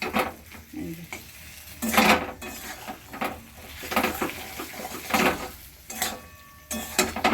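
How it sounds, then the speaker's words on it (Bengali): Sour jujube pickle with jaggery is stirred in a pan, giving repeated scraping strokes of a utensil against the metal over a low sizzle, close and moderately quiet. "এই যে গুড় দিয়ে ভালো করে নাড়তে হবে অনেকক্ষণ ধরে।"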